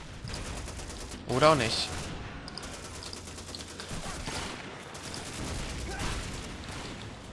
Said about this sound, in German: Da hat noch einer geschossen.